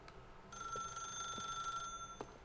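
Very faint electronic telephone ring in the video game The Stanley Parable, a steady high trill sustained for about a second and a half over a quiet room tone, with no talking.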